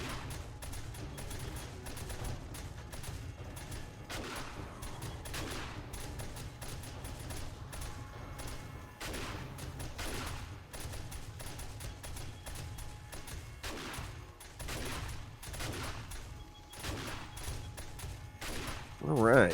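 Turret gunfire during a horde night in 7 Days to Die on the Wastelands map, rapid irregular bursts of shots rattling on continuously under a low rumble, with a few louder cracks standing out near the end.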